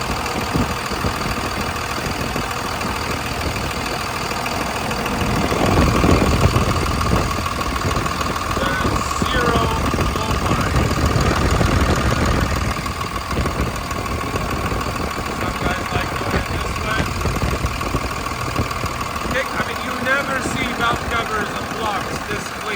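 A 2002 Dodge Ram with the 5.9L high-output Cummins diesel and 6-speed manual idles steadily up close during a blow-by test, a constant low rumble that swells briefly, with faint background noise.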